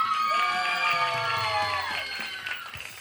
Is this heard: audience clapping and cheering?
yes